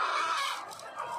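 Many egg-laying hens on a crowded farm of about 1,200 birds clucking together in a dense, continuous chorus, fairly close and loud, with no talking.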